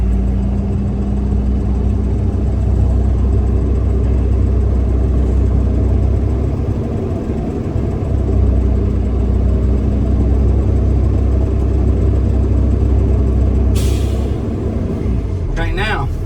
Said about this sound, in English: Now I'm going to keep idling until I get my air cut off.